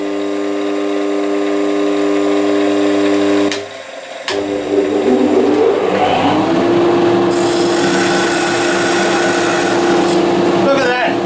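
A woodturning lathe spins up to about 1300 rpm with a steady hum, and partway through a dust extractor starts with a loud rushing roar that continues beneath the motor.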